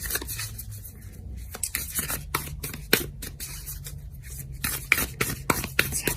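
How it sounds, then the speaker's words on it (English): Tarot cards being shuffled close up, a quick irregular run of soft riffling snaps and papery rubs, fairly quiet and with no talking. "let's give the cards a good shuffle"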